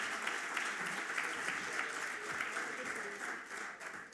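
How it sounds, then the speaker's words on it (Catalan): Steady applause from an audience at a pastry awards ceremony in Sant Vicenç dels Horts, sustained and fairly distant throughout with no break. "un aplaudiment per les noves generacions"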